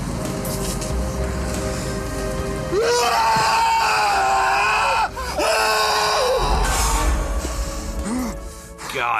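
A man screams in anguish in the horror film In the Mouth of Madness: long, loud, wavering cries over a dense rumbling score, broken by brief pauses.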